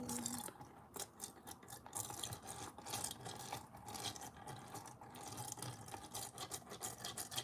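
Nails scrubbed with a brush during a Revel Nail Swift Soak, giving a steady, close, soft rasping rub that continues for several seconds with faint watery swishes and no talking.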